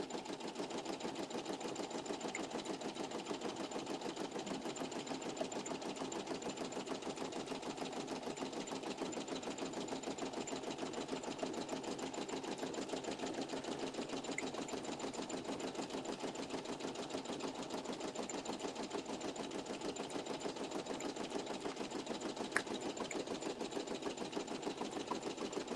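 An embroidery machine stitches steadily and rapidly through foam for an embossed design, a continuous mechanical chatter and hum with no pauses, close by and fairly quiet.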